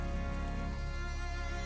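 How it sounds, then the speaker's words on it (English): Steady light drizzle falls at night on muddy, pothole-filled slum streets in Manila, a continuous soft hiss of rain with no voices, even and close throughout. "It's been drizzling all night here in Manila."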